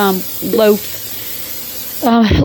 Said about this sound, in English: Go ahead and spray your pan